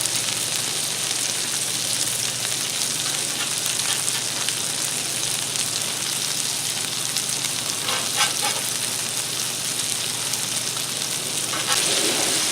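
Meatloaf burgers sizzle on a Blackstone griddle as they are turned: a steady, dense crackle of frying that runs throughout, with a few brief scraping sounds from the spatula.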